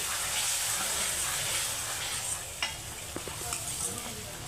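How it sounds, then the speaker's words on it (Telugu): Tomato paste sizzles in a pan for chicken curry, a steady bubbling fry broken by a few spoon scrapes and knocks on the pot toward the end. "టమాటా పేస్ట్ కూడా వేస్తున్నాను నేను"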